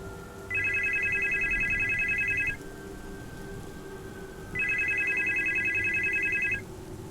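A telephone lying on a dining-room floor rings in two electronic bursts of about two seconds each, separated by a pause, over a low background hiss like rain.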